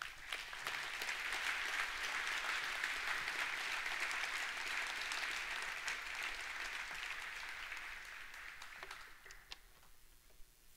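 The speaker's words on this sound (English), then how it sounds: "let's give Brian a round of applause." Sustained applause from a conference keynote crowd, steady and loud for most of the stretch, then thinning out to a few scattered claps at the end.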